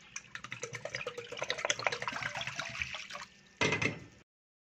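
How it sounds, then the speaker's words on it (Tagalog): Water poured into a hot frying pan (kawali) while making Filipino boiled pork bone soup, a close, busy splashing and trickling stream for about four seconds with a brief louder gush near the end, then silence. "Tapos lagyan natin ng tubig."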